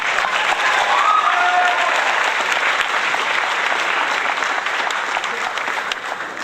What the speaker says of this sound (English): Do we have an applause button somewhere?